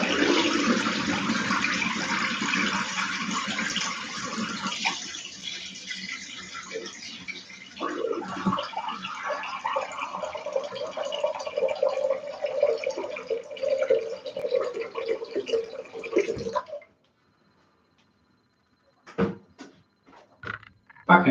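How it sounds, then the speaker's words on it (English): Tap water running steadily in a workshop for about 17 seconds, a broad continuous rush that then stops abruptly, followed by a few faint clicks and knocks. "Right, run some water."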